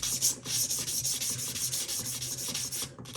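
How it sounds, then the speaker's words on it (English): Strokes of 400 grit sandpaper rub along the frets of a Japanese Stratocaster guitar in a steady back-and-forth rhythm, close and fairly quiet, with no voices. "I'm just trying to get rid of the deeper scratches using 400 grit sandpaper"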